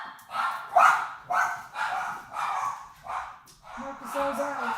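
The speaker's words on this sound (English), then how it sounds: "I'm just going to let the dogs out." Several dogs bark in a rough, repeated burst of five or six loud woofs as they are let outside, with a voice speaking nearby.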